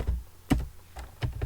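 Keys on a computer keyboard clatter while someone types code. Several crisp, close taps come in an uneven rhythm with short gaps between them, and no one speaks.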